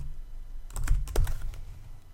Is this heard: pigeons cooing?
no